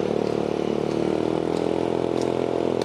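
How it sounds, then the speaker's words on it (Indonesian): A steady, loud engine drone with a throaty exhaust rumble comes from a British-brand automatic scooter built in Thailand, a Vespa rival, heard continuously up close while riding. "Suara knalpotnya menarik sih."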